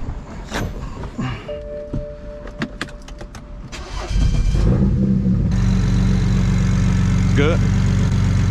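A turbocharged BMW 335i running on E85 cranks and catches, jumping to a loud, steady idle rumble that fills the second half, with a brief rev; light cabin noise and a voice before the start.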